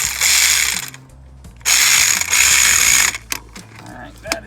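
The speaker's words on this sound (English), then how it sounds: "Now let's put the hose clamp" A ratchet tightens a hose clamp on a car's coolant hose, giving loud, rapid clicking runs in two long bursts, followed by a few softer separate clicks and faint talk.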